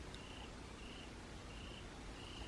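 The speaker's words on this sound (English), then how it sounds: "I hear a cricket." A cricket chirps indoors in a quiet room, giving faint, high, evenly spaced trills that repeat about four times over a soft hiss.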